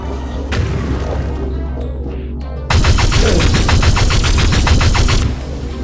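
A mesh blaster light gun fires in Tron 2.0, a loud burst of rapid repeated electronic shots in the latter half, following quieter game sounds and a brief lull.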